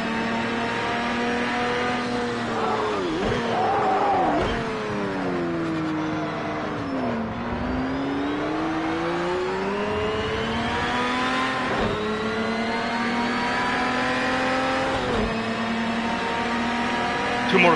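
Race car engines in Project Cars 2, among them a Lamborghini Diablo GTR, whine loud and close, rising and falling through gear shifts with sustained high revving, and a commentator talks over them.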